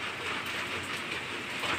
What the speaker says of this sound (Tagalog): Dito lang ako kasi sobrang lakas ng ulan eh.